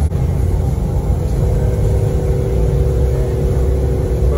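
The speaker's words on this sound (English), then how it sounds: "So it's downshifting, and I'm not even getting on the brakes yet." A Peterbilt 330 truck hauling cattle downhill lets its engine downshift without braking. It gives a loud, steady, close diesel rumble and drone throughout, with no voices.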